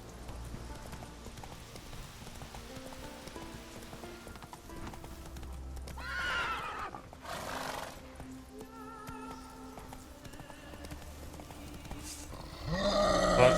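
Roach, a horse in the video game The Witcher 3, galloping with steady rhythmic hoofbeats, with a loud whinny near the end; no one speaks.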